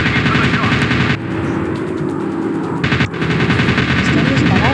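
Loud, continuous aircraft machine-gun fire in a video game, rattling rapidly and close with a brief break midway, alongside engine drone and a voice speaking over it.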